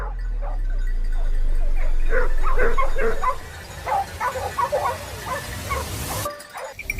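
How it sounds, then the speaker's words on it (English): Hunting hounds in dense southern woods give excited, overlapping barks and yips, fairly close, over steady outdoor background noise. "their frantic barking echoed ahead, a signal we all knew too well"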